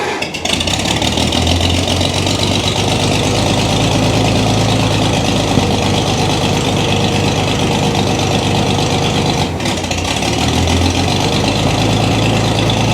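A 1937 Oliver Hart Parr 70 tractor engine, run cold on choke, holds a loud, steady, close rumbling idle with a brief dip near the end and no talking.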